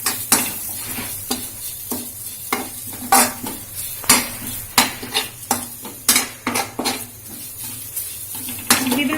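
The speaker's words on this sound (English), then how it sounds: "Now let's fry this as well." Crushed red chilies fry in a pan for horse gram curry, a spoon repeatedly striking and scraping the metal in a quick uneven rhythm over a low steady sizzle, close and clear with no voices.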